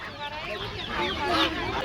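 Chickens, geese and other fowl cluck and chatter together in a busy, continuous din at a poultry and bird market in Adana, fairly close and steady throughout.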